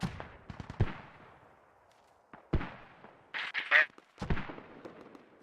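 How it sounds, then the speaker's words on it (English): Mortar rounds in a military video game land as several separate booming impacts, each a sharp burst with a rumbling tail, scattered irregularly across the stretch, with a voice talking in between. "We got mortars incoming now as well."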